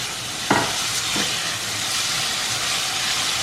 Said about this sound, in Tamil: தக்காளி ஆட் பண்ணி அதையும் நல்லா மிக்ஸ் பண்ணிடுங்க